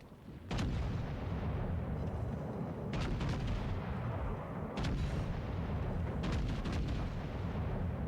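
Warship main guns fire in the video game World of Warships: Legends, several loud booming salvos spaced a couple of seconds apart, each a sharp blast with a rolling tail over a constant low engine rumble.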